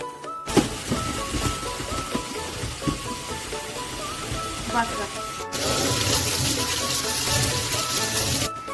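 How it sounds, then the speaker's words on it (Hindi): Strawberries are washed under a running kitchen tap, with a steady close splash of water and fruit clattering in the sink that grows louder and brighter partway through. "अब इसको धोएंगे, क्योंकि धोए बिना हम खाएंगे नहीं इसको।"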